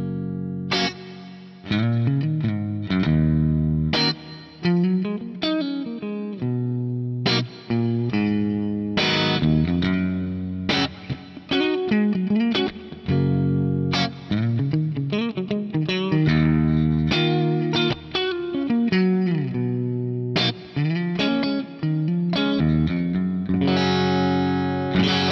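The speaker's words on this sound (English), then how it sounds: "I'm going to kick the Rich Hall reverb in and just play a little bit more for you." Electric guitar, a Fender Stratocaster on a clean tone with hall reverb, plays a loud, continuous passage of chords and single notes, each attack ringing out into a lingering reverberant tail.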